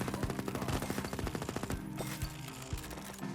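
Rapid bursts of lightning tommy gun fire in the roguelite shooter Erosion, a dense rattling stream for about two seconds, then scattered single shots with low thumps.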